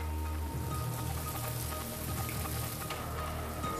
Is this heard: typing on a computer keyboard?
no